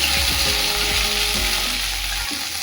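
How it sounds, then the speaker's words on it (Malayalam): Cumin seeds and crushed ginger sauteing in a hot pan, a steady close sizzle with soft stirring scrapes running throughout, easing slightly near the end. "ജീരകം, പിന്നെ നമ്മൾ ഇഞ്ചി ചതച്ച് വെച്ചിട്ടില്ലേ അതും ഇടും. അതും ഇട്ട് നല്ലോണം വഴറ്റുക."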